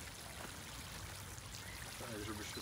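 Water pours from a watering can onto a freshly planted common beech sapling outdoors, making a soft, continuous trickling stream that stays faint throughout.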